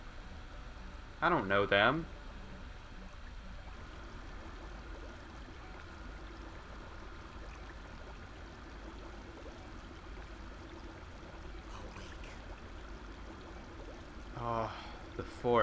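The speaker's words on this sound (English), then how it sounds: "Okay, water sounds." Game ambience from Knights of the Old Republic II: a faint, steady watery wash runs throughout, with short bursts of a man's speech near the start and end.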